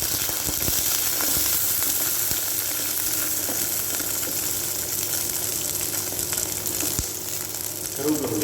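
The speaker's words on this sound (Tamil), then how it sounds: "ஒரு பாத்திரத்தில் ஆயில் ஊற்றிக்கலாங்க." Oil heats and fries in a pan for a wedding-style Tamil brinjal gravy. It gives a steady, close sizzle throughout with faint clinks, alone without speech.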